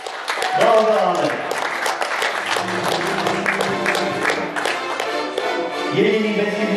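Crowd applause for the winner of a show jumping competition, a steady wash of clapping that swells near the start and end while someone talks over it.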